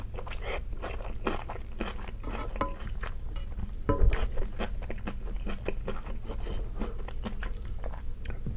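Someone chews and bites into Korean cheese dakgalbi, spicy chicken with melted cheese, in close, soft, steady mouth sounds with small crunches and one louder bite near the middle.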